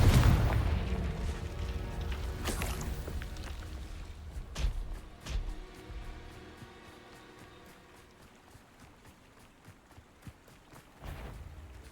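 Confringo fire spell blast in Hogwarts Legacy, a loud booming burst at the start decaying into rumble, followed by a few sharper cracks and crackling debris, with another thud near the end.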